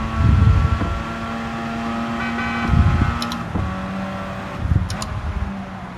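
Race car in the Gran Turismo 7 video game going over 200 km/h in fifth gear into a right turn and slipstream, a steady engine drone with rising bursts and tonal whine, fairly loud and uninterrupted.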